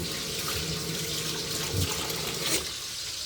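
Tap water runs into a kitchen sink in a steady, close splashing gush that continues for the whole moment without talk.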